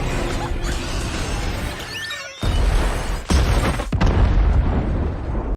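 A car explodes in a movie scene after its gas tank is lit, a loud booming blast followed by rumbling crashes and further bursts, dense and sustained.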